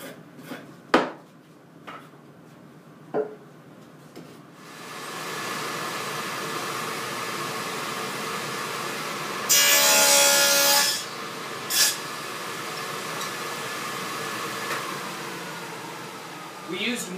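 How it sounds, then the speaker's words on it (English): A dull chisel scrapes excess charcoal from the inside of a whiskey barrel, a dry rasping rub that builds into a steady scrape for several seconds, with a brief harsher burst midway and a few scattered knocks before it. "Next tool we use is a simple little dull chisel to remove the excess charcoal."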